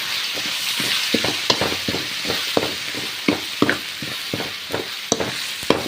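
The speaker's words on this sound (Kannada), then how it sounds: "ಟೊಮೆಟೊ ಸ್ವಲ್ಪ ಸಾಫ್ಟ್ ಆಗೋವರೆಗೂ ಈ ರೀತಿಯಾಗಿ ಫ್ರೈ ಮಾಡ್ಕೋಬೇಕು" Tomatoes with chili powder fry in a pan for a ridge gourd sambar, with a constant close sizzle and a steady rhythm of spoon scrapes and taps as the mixture is stirred.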